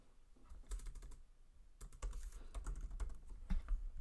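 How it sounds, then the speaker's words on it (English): Quick bursts of keystrokes on a computer keyboard while entering a short word in design software, soft and close with brief pauses between clusters of taps. "I'll select that and I'm just gonna type in hello."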